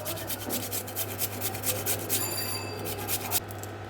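Rasping scrape of a single potato rubbed through poppy seed paste on a stone grinding slab, a steady close rub with a low constant hum underneath.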